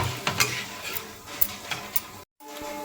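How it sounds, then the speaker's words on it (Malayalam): Turmeric and other spice powders sautéed in a pan for a fish curry, with a spoon stirring and tapping over a soft, steady sizzle and one brief gap of silence near the end. "ഈ പൊടികളുടെ പച്ചമണം മാറുന്നത് വരെ നമുക്കിതൊന്ന് വഴറ്റിയെടുക്കാം"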